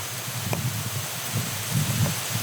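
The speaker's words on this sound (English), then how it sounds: "as I stand here in the rain" Rain falls steadily outdoors, a close, even hiss of drops with faint low rumbles and patters throughout a short stretch.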